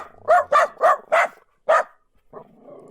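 Dog barking from a sound effect file, five sharp, evenly spaced barks close to the listener, then a brief pause and a softer low whine or grumble at the end.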